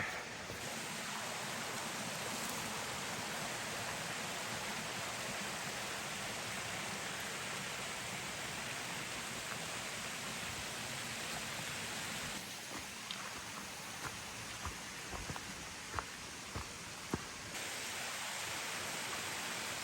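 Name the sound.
creek water flowing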